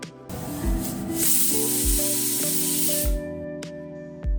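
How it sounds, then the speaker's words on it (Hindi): A pressure cooker whistles as steam hisses loudly and steadily for several seconds while cooking moong dal khichdi, with a faint tonal whistle and clatter underneath, ending in a brief sharp burst. "इसमें थोड़ा और पानी मिलाएं और ढक्कन लगा के 3 से 4 सीटी लगने तक पकाएं।"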